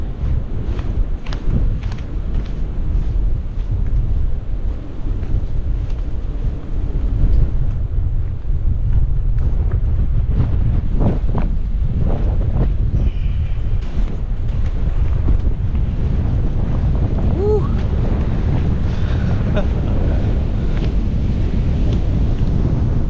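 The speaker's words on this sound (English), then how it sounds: "It is windy" Strong wind buffets the microphone in a constant low roar during a rainy hike, with gusty rumbles and faint water sounds underneath.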